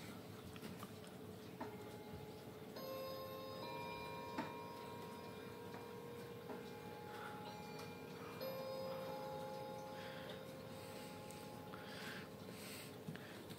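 A Schatz 8-day ship's bell clock ticks steadily and softly over a faint background hum, with a few brief metallic chime-like tones ringing through, close and quiet.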